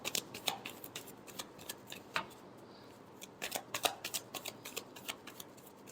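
Tarot cards being shuffled by hand in a quiet room, a run of soft, close riffles and flicks in irregular bursts with brief pauses between them.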